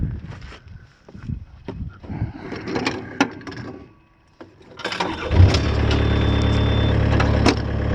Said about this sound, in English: Let me start the machine up and I'll show you what it does.